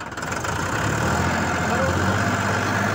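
A New Holland 3037 tractor engine runs steadily at a set RPM, a loud, even, continuous drone close by with no pauses, heard alone.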